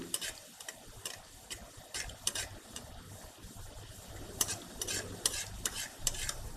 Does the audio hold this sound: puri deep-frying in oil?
yes